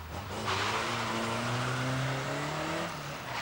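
A Ford-engined midget car races through a Northern Ireland autotest course, its engine revving hard and rising in pitch as it accelerates past, loud and close, with a brief tire scrub.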